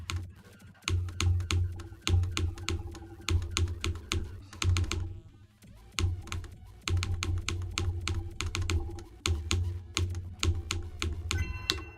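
Computer keyboard keys clatter in rapid, dense bursts of clicks while a game is played, loud and close, with a few brief pauses and no talking.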